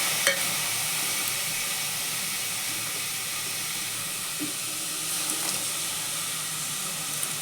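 Onion and tomato fry in a pressure cooker pan, producing an even, close hissing sizzle broken by a few light stirring clicks, with no voices.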